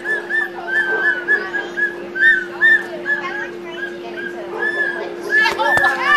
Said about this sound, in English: Oh, hit Blake, you get two whistles.